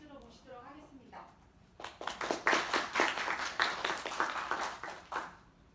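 A seminar audience of professors claps to welcome a Microsoft Korea presenter, with a host's voice speaking first and a steady burst of close, crisp applause building and continuing to the end.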